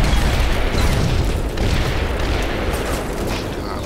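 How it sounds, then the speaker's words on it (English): Tank machine gun fire in the WWII strategy game Combat Mission, a dense, continuous low roar of rapid rounds and rumbling booms, loud and steady throughout with no talk. "Tank machine guns coming from behind us."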